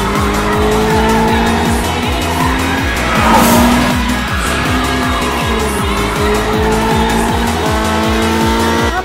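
Racing cars tear down a street in BeamNG.Drive, a loud, continuous engine drone with pulsing rhythm, rising and falling pitch as gears change, and tire squeal layered over the top for the whole stretch.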